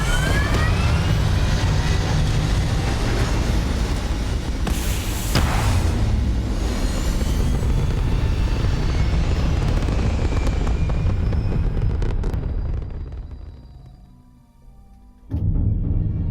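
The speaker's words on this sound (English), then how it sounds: "Retros firing. Orbit stabilized." Spaceship engines and retro thrusters firing in the video game Starfield, a loud, dense roar with a sharp burst near the middle that carries on steadily before fading out, then returning abruptly at the end.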